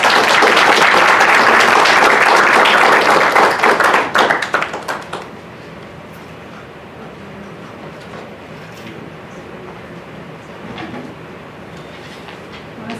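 An audience at a panel session on education in the AI era claps loudly and densely for about four seconds, then the applause thins into scattered claps and fades to quiet room noise.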